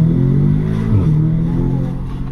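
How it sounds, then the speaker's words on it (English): A 300 bhp Audi S3 quattro hot hatch accelerates hard nearby, its engine note rising, dipping briefly at a gear change, then climbing again. "It's a beautiful sounding car."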